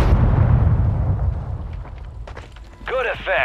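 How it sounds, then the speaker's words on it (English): A heavy missile strike explosion in a video game booms loud and low, then rumbles and fades over a couple of seconds before a voice speaks over the tail. "Missile strike hit a single target"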